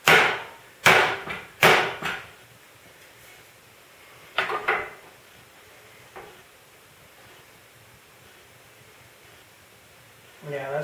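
A steel work table is hammered into alignment in a workshop: several sharp, ringing metal blows come in a quick cluster, then a couple more after a pause, with a final knock at the end and short stretches of quiet between.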